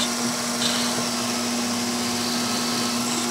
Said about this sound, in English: So this is how I drill most pilot holes.